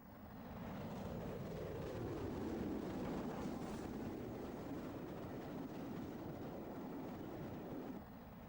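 A B1 steam locomotive passes northbound as a steady, broad rushing roar that swells and holds for several seconds before easing slightly, heard alone without voices.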